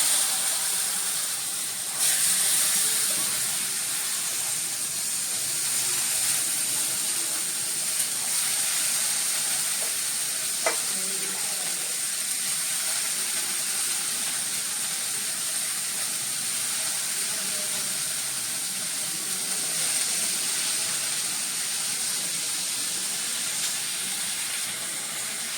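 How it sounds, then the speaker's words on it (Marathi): Cluster beans and potatoes sauté in a spiced tempering, a continuous, even hiss of frying close by with a faint clink partway through and no talk. "आपण आता ही भाजी जरा परतून घेऊया"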